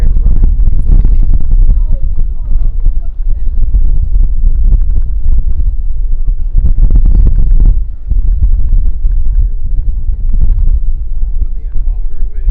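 Strong wind buffets the microphone continuously near the erupting Kilauea volcano, a loud rumbling roar with gusty swells throughout.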